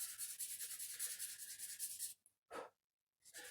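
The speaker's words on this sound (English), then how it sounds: "I am gonna just sand down the corners of this nut a little bit," Sandpaper rubbing the corners of a bass guitar nut in a luthier's workshop, a steady close rasping stroke for two seconds, then two short separate rubs after brief pauses.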